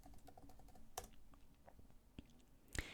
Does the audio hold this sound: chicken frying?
no